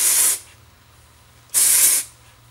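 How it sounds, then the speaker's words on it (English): Two short bursts of aerosol dry shampoo spray onto hair, each a loud, close hiss lasting about half a second, separated by a brief quiet pause. "I'm going to spray on the big sexy dry shampoo"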